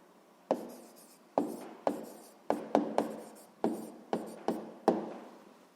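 Handwriting an answer on paper produces a series of about ten quick, crisp pen strokes in an irregular rhythm, close and distinct with no talking.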